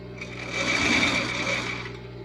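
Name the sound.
sewing machine stitching a seam on a dress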